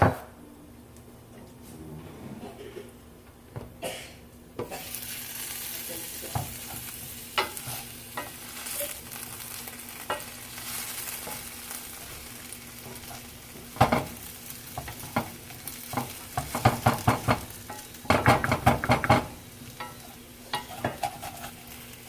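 Potatoes frying in a pan, with a continuous sizzle. A utensil stirs and scrapes against the pan at intervals, growing busier toward the end, and no one talks.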